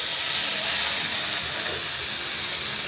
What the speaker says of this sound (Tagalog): Second, prito ang bacon.